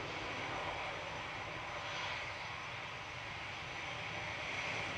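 SunExpress jet airliner departing Manchester Airport for Antalya, a steady distant roar of engines that holds level throughout, with no voices over it.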